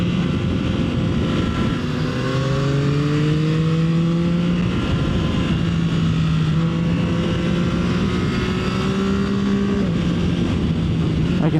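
A 2024 Yamaha MT-09 SP engine roars loud and close from onboard on a winding road, its pitch climbing repeatedly as it pulls through the gears and easing between shifts, with no talk.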